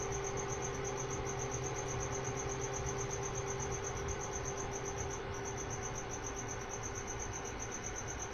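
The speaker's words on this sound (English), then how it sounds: "Got a loud cricket giving us a concert right now behind me somewhere." A cricket chirps outdoors in a rapid, steady, high-pitched pulsing trill, faint but continuous, over a constant low background hum with no one speaking.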